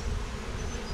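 Honey bees buzz in a dense, steady drone around an opened nuc hive being moved to a full brood box, close and loud with no talk.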